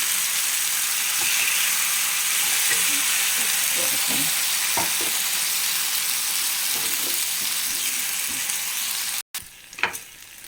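Cooked plantain and beans stir-frying in a hot pan, a steady loud sizzle with occasional scraping and stirring knocks, briefly interrupted near the end.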